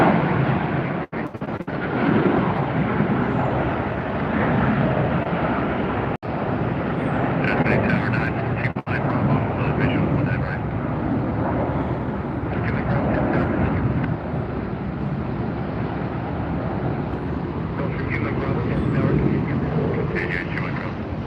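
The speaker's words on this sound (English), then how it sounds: "We got another takeoff rolling behind the terminal, and there it is." A jet airliner makes its takeoff roll behind the terminal at Tampa airport. A loud, steady broadband roar holds for the whole stretch, with a few brief dips.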